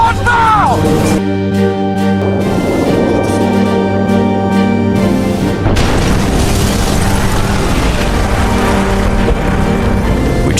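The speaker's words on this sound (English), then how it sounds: "The impact caused a violent explosion" A torpedo strikes the starboard side of the ocean liner Lusitania near the coal bunkers, setting off a violent explosion: a loud boom followed by a long rumbling roar of debris and crashing.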